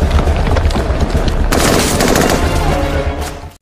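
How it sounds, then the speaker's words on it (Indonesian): Intense gunfire exchange, rapid overlapping shots and bursts with a loud crack midway, continuous and close, no talking. "Tembak-tembakan pun berlangsung sengit."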